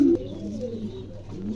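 An adult pigeon kept for sale coos in low, rolling bursts close by, a steady murmur running through the whole stretch with no talk over it.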